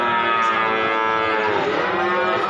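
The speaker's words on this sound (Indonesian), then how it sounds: "Ini sapi pedetannya Pak Ndut yang punya Gapura Ngerang Pati Jawa Tengah teman-teman." A calf at a cattle market in Pati, Central Java, lets out one long, loud, sustained moo filling the whole moment, close to the listener.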